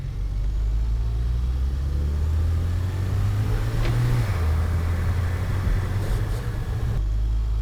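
A tuned all-wheel-drive BMW 335 engine rumbles steadily, rising in pitch as it accelerates, heard continuously with no voices.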